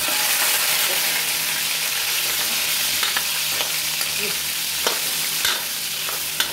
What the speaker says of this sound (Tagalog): piprituin muna natin yung pork bago natin simulan yung actual na pagluto nitong ating gulay